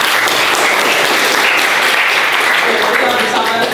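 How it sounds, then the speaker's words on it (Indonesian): Classroom of students applauding a group after its presentation on atomic structure, a dense, steady wash of many hands clapping at close range, with some voices mixed into the crowd noise. "Tepuk tangan untuk kelompok."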